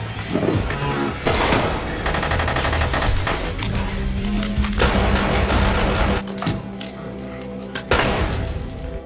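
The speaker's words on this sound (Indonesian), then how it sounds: "Romano yang terus menembaki Potter dengan membabi buta" Machine gun fire in an action-film shootout between a man and mafia gunmen: dense, continuous bursts of automatic fire fill the scene loudly, with sharper single cracks and heavy impacts breaking through over a rumbling film soundtrack.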